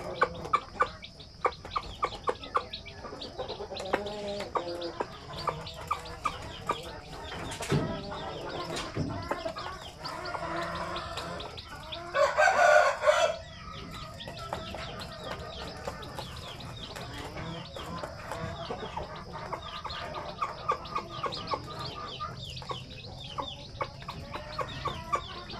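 Chickens and chicks cluck and chirp around a new nest of chicks in a farmyard, a steady mix of soft clucks and peeps with a louder burst of calls near the middle, no talking.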